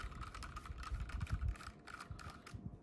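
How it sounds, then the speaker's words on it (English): A powered screwdriver unscrews four screws on a Creality CR-6 SE 3D printer, a close, whirring buzz in short bursts with small mechanical clicks between them. "unscrew all 4 of these screws"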